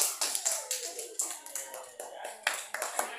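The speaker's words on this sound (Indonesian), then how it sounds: "Tepukan untuk kita semua dulu dong." A group claps during a classroom lesson, irregular overlapping hand claps close by, coming in quick uneven bursts for a few seconds.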